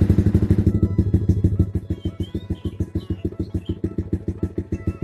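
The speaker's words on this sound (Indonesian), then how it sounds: "Nah, untuk mesin sekarang sudah hidup." A Yamaha Vixion motorcycle fitted with a full fairing fires up and settles into a steady, rapid idle, its close, loud exhaust pulses thumping evenly throughout.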